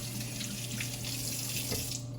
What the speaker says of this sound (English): Now we're going to turn on the water.